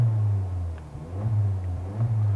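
A Honda Civic Type R with an upgraded exhaust rumbles low and steady nearby, swelling in a few brief revs against a 3,500 rpm limiter while parked.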